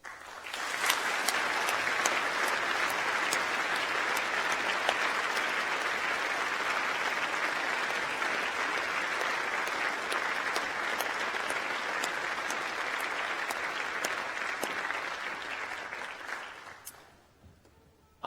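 A graduation audience in a hall applauding the staff, sustained loud clapping from a large crowd that holds steady for about sixteen seconds before fading out.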